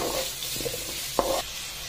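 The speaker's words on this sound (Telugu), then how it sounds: "అలానే పచ్చిమిర్చి, కరివేపాకు వేసి దీన్ని బాగా ఫ్రై చేసుకోండి." Sliced onions, green chillies and curry leaves fry in hot oil with a soft steady sizzle, broken by a brief spatula scrape and stir near the pan.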